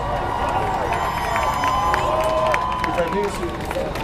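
A large protest crowd fills Red Square in Seattle with a steady dense babble of many voices, scattered shouts and some cheering close around.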